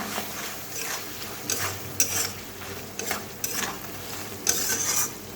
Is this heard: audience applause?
no